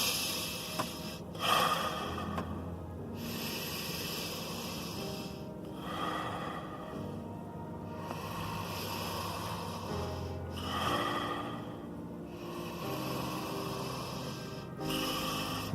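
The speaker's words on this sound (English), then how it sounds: "you want to breathe as if you're already asleep" Slow, deep breaths drawn in and out at a calm sleeping pace, several long cycles, close and soft with a slight nasal rasp.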